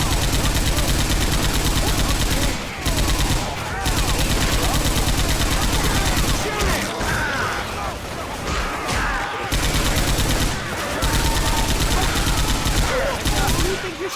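Dense gunfire in the zombie shooter Left 4 Dead 2, loud and nearly continuous for the whole stretch, with rapid overlapping bursts broken by only a few brief gaps.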